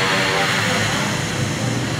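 A motorcycle engine drones loud and steady at close range for a couple of seconds, a broad continuous roar with no breaks and no talk over it.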